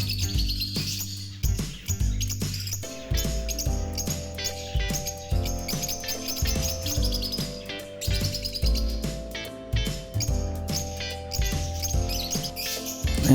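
Pet budgies and lovebirds in an indoor aviary chirp and twitter continuously, with busy overlapping calls over a steady background of music or rain-like noise, birds close by.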